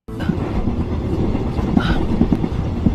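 A Red Hills Express train passes close by, a loud continuous rumble with rhythmic clickety-clack wheel knocks and a brief higher squeal partway through.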